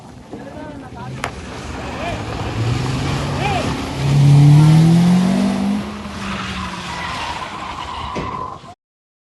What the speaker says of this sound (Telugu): ఆ కారు వేగం చూస్తుంటే వాడు ఏదో రేసులో ఉన్నట్టుగా బీభత్సం క్రియేట్ చేశాడు